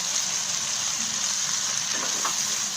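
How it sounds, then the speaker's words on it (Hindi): Fried boneless chicken pieces dropped into a hot karahi for a spicy restaurant-style chicken karahi, giving a steady close, dense sizzle with faint stirring clinks near the end and no talk. "इसमें अब चिकन ऐड करूँगा मैं, ये जो हमने फ्राई किया था चिकन फ्राई इसमें ऐड करूँगा।"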